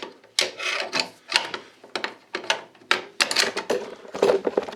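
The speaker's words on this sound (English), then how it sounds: "So I'll take this unfired, milled gun, I'll take its bolt carrier here and drop it into this" Metal clacks and scraping as a milled AK47 bolt carrier is dropped into and worked inside a stamped AKM receiver, a series of close, distinct mechanical clicks and slides with brief pauses between them.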